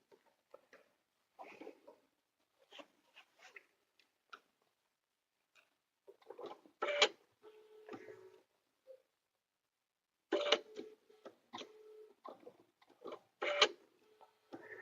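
Sewing machine stitching fabric for an outdoor door sign, faint intermittent bursts of rapid mechanical ticking and clatter separated by quiet pauses, close by with no talking.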